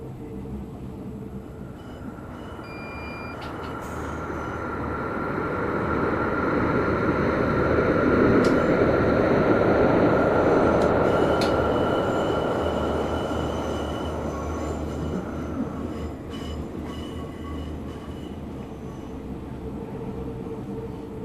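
Berlin U-Bahn subway train running on the U1 line in the game Subway Simulator 2, a steady rumbling roll of wheels on rails that swells louder midway and then eases off, with no voices.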